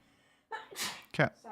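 A single sharp sneeze from a person, preceded by a short inhale, with a brief voice fragment just after.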